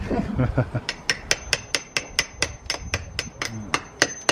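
A hammer strikes a chisel in a fast, even run of sharp, close metallic taps while brickwork around a gas vent hole is cut out during a wall repair.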